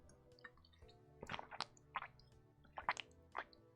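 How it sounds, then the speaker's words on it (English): Close, wet gulps and swallowing sounds in an irregular rhythm, with soft lip smacks, as someone drinks right up against the microphone. "That was me drinking directly into the microphone."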